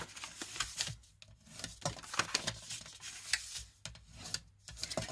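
A tool rubs and scrapes along score lines on gift box paper, making soft, dry strokes in an irregular back-and-forth rhythm. The sound is close but faint, and no one talks over it.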